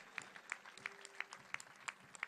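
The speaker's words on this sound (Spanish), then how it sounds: "Fuerte el aplauso para ellos." Faint, steady rhythmic clapping at a political rally in Rosario, with evenly spaced claps roughly three per second that sound distant and sparse rather than like a full crowd ovation.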